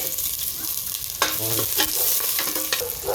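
Onions frying and sizzling in a pan for sinigang, burnt in a quick home cook, with steady close sizzle and bursts of stirring scrapes, no talk.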